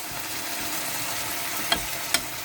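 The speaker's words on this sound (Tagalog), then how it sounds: "ginigisa ko na po yung kamatis" Tomatoes sizzle as they are sautéed in a pan, a steady soft frying hiss throughout with two brief clinks of a utensil near the end.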